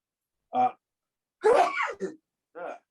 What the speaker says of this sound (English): I didn't mean to sneeze on camera there.